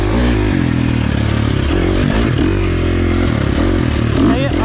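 KTM 350 XC-F dirt bike engine, a 2023 model, held on steady throttle, droning loud and close with shifting harmonic pitch throughout, mixed with clatter and scraping from the ride.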